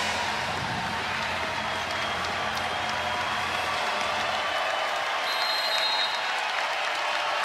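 A packed arena crowd at a Kansas versus Texas women's college volleyball match roars and applauds continuously, a dense sustained wash of cheering with a shrill whistle-like tone near the end.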